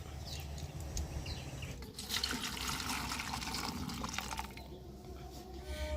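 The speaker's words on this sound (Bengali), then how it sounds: "এবার আমি এই জলটাকে একটা পাত্রের মধ্যে ঢেলে নেব।" Water melted with naphthalene is poured into a bowl, a soft, close trickle and splash that swells near the middle of the pour and then thins out, quiet and without talk.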